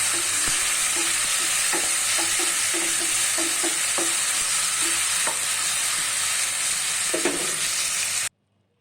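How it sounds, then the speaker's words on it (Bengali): An onion and green chili paste with ginger and garlic paste frying in a pan for an egg and potato korma: a loud, steady sizzle with repeated scraping stirs from a spatula, close up, cutting off abruptly at the end. "পেঁয়াজ কাঁচামরিচের একটি পেস্ট তৈরি করে নিয়েছিলাম, সেটি দিয়ে দিয়েছি, আদা বাটা, রসুন বাটা আর কয়েক ফালি মরিচ। এটাকে আমি একটু নাড়তে থাকবো।"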